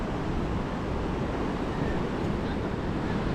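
Ocean surf rolling in at Legian Beach, Bali, on an early rainy morning, a steady broad wash of waves with wind noise on the microphone, continuous and fairly close without distinct breaks.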